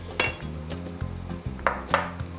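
Quiche batter with onion and parsley is mixed by hand in a bowl, making a series of close, irregular utensil clinks and scraping stirs that recur roughly every half second.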